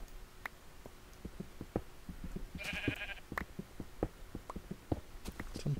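Sheep in a video game bleat several times at close range, with a few short bleats and some soft clip-clopping steps over a quiet background.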